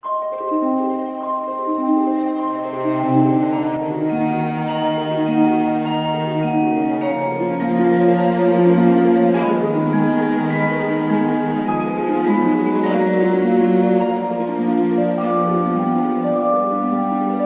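Orchestral music with a slow, singing low cello melody carried over sustained harmonies, full and continuous, with bright high notes entering later.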